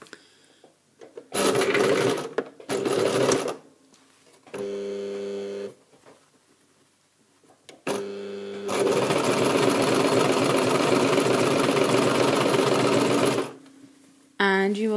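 Domestic sewing machine stitching around the armhole of a basic tunic, running in short bursts with pauses for repositioning, then a long steady run, close and clear with brief speech between.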